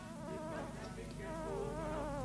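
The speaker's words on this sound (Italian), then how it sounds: "L'unico svantaggio di questo posto è che ci sono le zanzare." Mosquitoes whine in a steady, thin drone through an outdoor night scene, wavering in pitch and staying fairly quiet against a faint background hum, with no talk over it.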